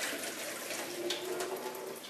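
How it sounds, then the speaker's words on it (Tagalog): Water drains steadily from a cooking pot into a sink, making a continuous broadband rushing and splashing stream at close range, with no talk. "i-drain muna natin yung tubig kasi papakuluan natin siya."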